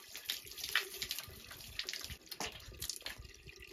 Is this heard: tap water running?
yes